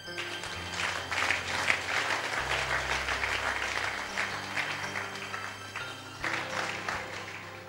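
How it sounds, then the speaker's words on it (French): A church congregation claps loudly and continuously to acclaim the Lord, a dense sustained wash of applause with a brief dip near the end before surging again. "On acclame le Seigneur."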